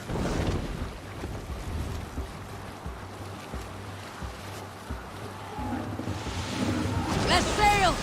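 A sailing ship under sail at sea in Assassin's Creed Valhalla: steady rushing wind and washing water with a low rumbling hull, growing stronger toward the end, where faint voices call out over it.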